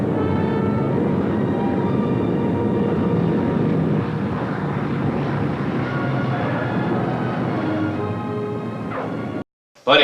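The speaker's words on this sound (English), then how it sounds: "The damaged B-17 was ready now, and it had been fixed up enough for us to fly it back to Polebrook." Droning engine roar from a damaged B-17 bomber being flown back to Polebrook, steady and loud for nearly the whole stretch before cutting off abruptly near the end.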